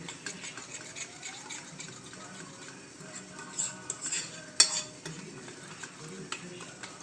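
Homemade milk chocolate mixture being stirred in a pan, a steady soft scraping and swishing with a few sharper utensil clinks, fairly close and moderately quiet, with no voices.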